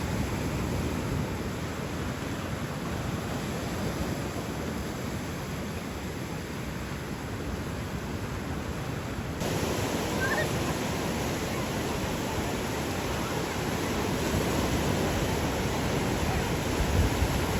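Steady, continuous roar of surf washing onto a beach in Australia, with a broad wind-like hiss and a slight rise in intensity partway through.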